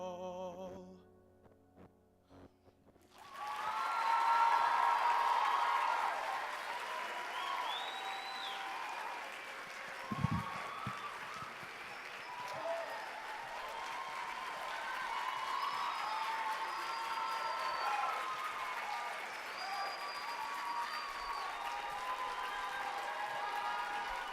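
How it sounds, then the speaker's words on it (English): After a sung line ends at a teen singing competition, a large crowd breaks into applause and cheering, rising quickly, then sustained at moderate level with scattered whoops and a brief thump partway through. "you deserve every bit of that applause from this crowd"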